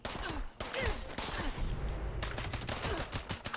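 Enemy gunfire in Fallout 76, with dense rapid volleys of shots crackling in bursts broken by brief pauses, moderately loud with no talking.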